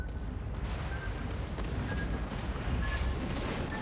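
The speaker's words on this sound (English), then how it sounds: "Now my guns can actually open fire." Ship guns firing in World of Warships Legends during a carrier battle, a dense continuous rumble of heavy booms with faint higher tones over it.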